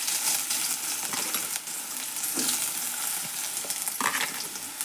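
Chopped onions fry in hot oil with mustard seeds for a Karnataka-style okra dish, giving a loud, steady sizzle with crackling spatters and several scraping stirs of a spoon against the pan.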